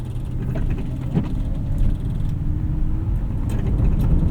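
A 2005 Lexus SC 430 under full throttle in snow on Michelin CrossClimate 2 tires gives a steady low engine drone from inside the cabin, rising slightly in pitch, with clunks and rattles scattered through.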